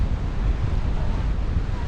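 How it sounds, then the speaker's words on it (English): Strong wind buffets the microphone while cycling outdoors, a continuous loud low rumble with gusty roar throughout and no clear speech. "It is just very windy right here."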